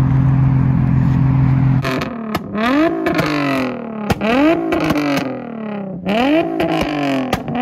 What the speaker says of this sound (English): I'm just gonna do some revs and see if we can get some flames